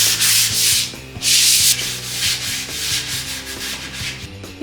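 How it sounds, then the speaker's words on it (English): Folded 400 grit sandpaper rubbed over primer on a small furniture piece, giving close, scratchy back-and-forth strokes in steady rhythm, loud at first then softer, with a low hum underneath and no talking. "grab a 400 grit sandpaper, just a small piece, fold it up, and then use that to sand the primer and create a really nice smooth surface"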